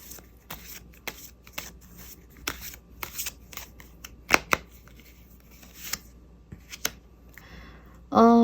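Tarot cards are shuffled and drawn, a run of crisp close riffling and flicking sounds with sharp slaps, while a voice speaks briefly near the end.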